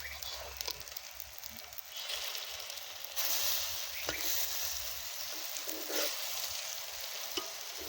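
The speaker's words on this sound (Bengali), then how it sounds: "এবারে পকোড়াটা ভেজে নেবো" Pakora frying in a small amount of oil at an outdoor winter picnic, giving a steady close crackling sizzle with occasional sharper spits and stirring scrapes, no talk over it.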